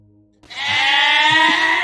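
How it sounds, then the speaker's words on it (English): Goats bleat in one loud, drawn-out, wavering cry that begins abruptly after a short quiet pause and holds steady to the end, with no talking. "Why the goats are doing this again?"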